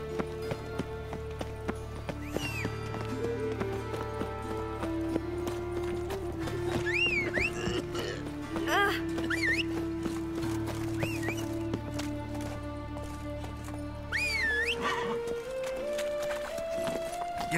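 Horse hooves clip-clop in The Witcher 3: Wild Hunt, a steady trotting rhythm of hoofbeats under game music, with a few whinnies and snorts breaking through along the way.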